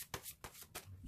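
Tarot cards are riffled and shuffled in quick soft bursts, about three short flurries in close succession, quiet and near, with no talking.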